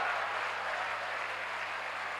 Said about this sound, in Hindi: जोरदार ताली बजाई जाए